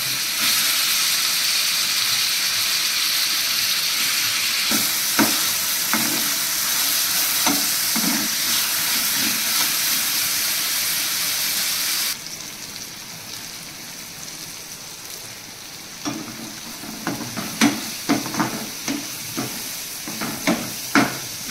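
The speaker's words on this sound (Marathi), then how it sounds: "छान फ्राय करूया कांदा आणि लसूणला." Chopped onion and garlic frying in oil in a pan, a steady dense sizzle that drops in intensity partway through, with intermittent stirring scrapes and clicks over it and no voices.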